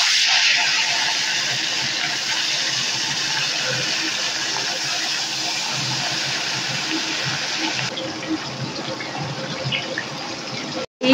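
Small fish sizzling in hot oil in a pan, a steady loud hiss of frying running continuously and close, briefly cutting out near the end.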